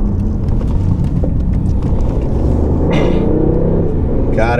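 A BMW i8 spins a 360 at a driving experience event in Campo Grande, with a loud, close, steady engine and road rumble throughout and brief higher-pitched bursts near the end.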